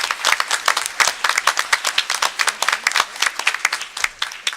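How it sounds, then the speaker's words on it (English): Applause at a Sayreville school board meeting for a top academic student, with sharp individual claps from a modest crowd, fairly close, in a quick uneven rhythm for about five seconds, with no talk over it. "Round of applause for her."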